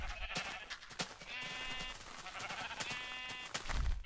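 Repeated nasal baas from a flock of Minecraft sheep, two clear bleats standing out between clicks and light in-game movement sounds.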